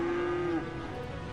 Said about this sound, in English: Judging by the sound, they contain live cows.